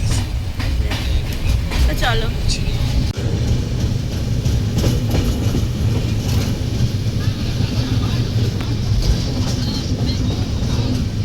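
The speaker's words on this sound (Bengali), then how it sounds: "রাত্রিরে এত স্পিডে ট্রেন টানছে যে" A passenger train running fast at night, a loud, steady rumble with rhythmic clickety-clack of wheels on rails heard from inside a carriage, with brief talk from passengers over it.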